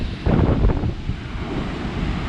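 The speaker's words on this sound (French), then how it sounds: "Oh la vache, les vagues, elles sont terribles." Big ocean waves crash and roar close by on the Brittany coast after a storm, a heavy continuous rumble of surf mixed with strong wind buffeting the microphone.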